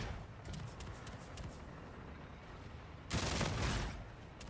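Gunfire in Call of Duty: Infinite Warfare during a hardcore team deathmatch, a steady mix of distant shots and game noise, then a louder burst of fire near the end.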